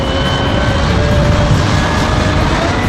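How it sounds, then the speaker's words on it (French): A John Deere 6190R tractor hauls a Claas forage harvester through dense willow plantings, a loud, steady engine and machinery drone with broadband rumble and faint whining tones, continuous throughout with no voices. "6190R tire l'ensileuse Claas dans ses denses plantations de saules"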